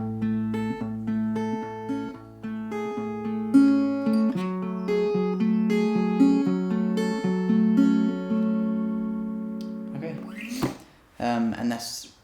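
An acoustic guitar plays a repeating fingerpicked pattern, with clear plucked notes over a steady bass line, close and alone, ending with a few stray strums.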